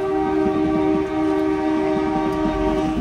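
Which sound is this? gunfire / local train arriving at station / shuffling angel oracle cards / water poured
local train arriving at station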